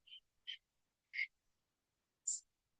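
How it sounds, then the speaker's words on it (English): Sparse, brief bird calls heard outdoors during a quiet moment, four short separated chirps with silence between them, fairly faint. "I can see the birds are chirping here."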